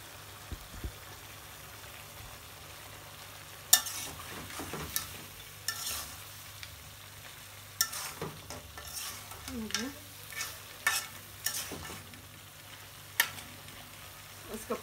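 A meat curry sizzles steadily in a pan, with intermittent sharp clinks and scrapes as it is stirred, close and moderately loud.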